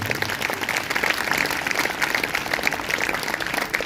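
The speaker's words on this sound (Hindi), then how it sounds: "अगर आपको आए तो जोरदार तालियां बजाना।" A church congregation breaks into loud, sustained applause during a sermon, a dense, steady patter of many hands clapping that fills the room from start to finish, with no one speaking over it.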